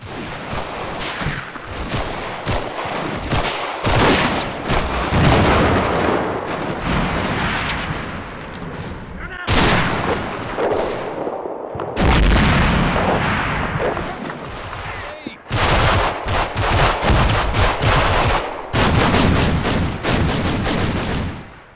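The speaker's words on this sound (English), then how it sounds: "They run into another Italian unit at the end of KT-2, and a quick firefight ensues." A firefight breaks out between infantry units in the Combat Mission: Fortress Italy war game, with dense, continuous bursts of rifle and machine-gun fire and heavier booms, loud throughout with only brief lulls.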